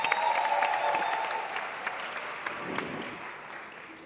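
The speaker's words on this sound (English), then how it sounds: "Round of applause for Visa." Conference audience applause at a women's business event, steady dense clapping from a large crowd that fades slowly toward the end.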